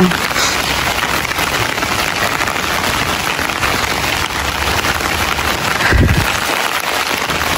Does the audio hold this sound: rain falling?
yes